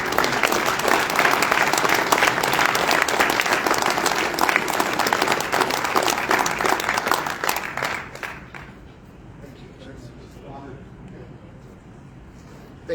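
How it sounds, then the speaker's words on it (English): A large banquet crowd at a sports association awards dinner applauds loudly and steadily for about eight seconds, then the clapping fades to a quieter room murmur with scattered sounds. "One more round of applause."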